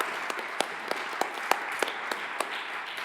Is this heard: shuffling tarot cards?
no